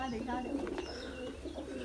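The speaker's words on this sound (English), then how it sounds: "here, there's a large variety of birds here." Caged pigeons and other birds feeding on grain at a resort coo and chirp softly. The sound is steady and a little distant, heard under faint voices and background noise.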